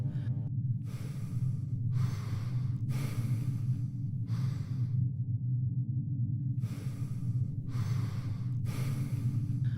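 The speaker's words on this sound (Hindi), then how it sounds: "लंबी धीमी सांसों की आवाजें" Slow, deep breaths repeat in a steady rhythm, each long inhale or exhale rising out of a low humming background, close and fairly quiet.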